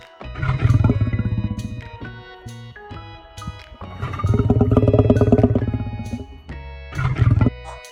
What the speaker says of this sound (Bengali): সিংহ রাগে